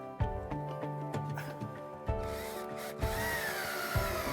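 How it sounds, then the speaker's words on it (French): A screw is driven to fix the cord tensioner of a blind, with short, close bursts of power-tool whirring separated by sharp clicks and knocks. "On vient visser, mais il faut être prudent pour ne pas casser le tensionneur avec la vis."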